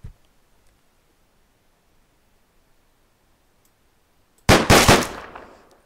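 A gunshot in the video game Deadbolt blows an enemy's head off: a single loud, sharp blast bursts out after several seconds of near silence, then decays over about a second.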